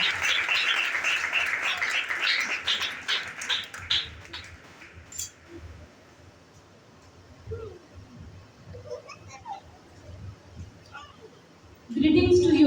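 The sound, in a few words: applause from church congregation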